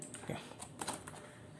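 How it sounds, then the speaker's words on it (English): Quick light clicks from a computer keyboard, a short run of a few keystrokes tapped in an uneven rhythm, soft and close. "I am typing google.com."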